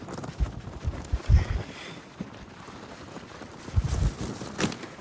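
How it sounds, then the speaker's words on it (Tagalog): Strong wind buffets the microphone on a shoreline fishing spot, with low gusty rumbles swelling near the start and again toward the end, and a steady hiss of air between gusts. "Grabe, lumakas yung hangin"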